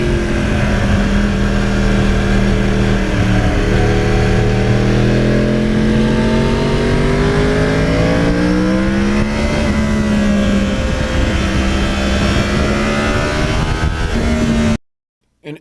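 A 2009 Yamaha R1 crossplane motorcycle engine revs loudly and continuously, its pitch rising and falling through throttle sweeps over about fifteen seconds before cutting off abruptly.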